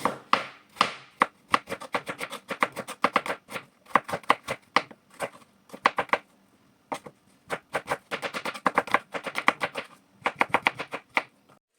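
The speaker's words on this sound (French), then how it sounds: "nous allons découper les oignons en lamelles" Knife chopping onions into strips on a board for a Cameroonian rice dish: quick, close, crisp cuts in rhythmic bursts with short pauses, no voices.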